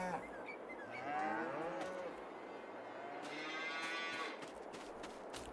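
Cows in a Farming Simulator 22 pasture moo in long, drawn-out calls, one after another, over a steady farm ambience with no talking.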